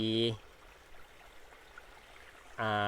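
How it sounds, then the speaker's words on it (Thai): A small waterfall stream running through a garden cafe and bakery in Mae Rim, Chiang Mai, gives a faint, steady rushing hiss. Someone speaks briefly at the start and end. "ทางน้ำไหลผ่านด้วยนะครับ เป็นน้ำตกเล็ก ๆนะครับ"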